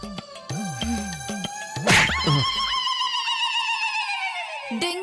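A voice mimics a mosquito with a thin, high-pitched whining buzz that wavers and drags on for several seconds, mixed with other busy sounds.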